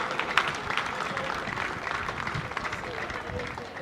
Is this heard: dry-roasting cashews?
no